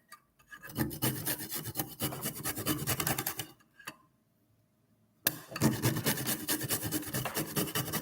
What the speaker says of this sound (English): Let's start grating.